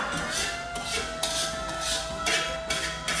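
A metal wok clattering and scraping on a stovetop, with a few sharper clanks over a steady kitchen hum, close by.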